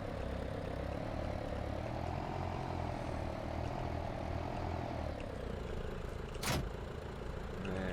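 Steady tractor engine drone in Farming Simulator 19, idling and working in a farmyard, a continuous loud hum with slight pitch wavering and one brief sharp click near the end.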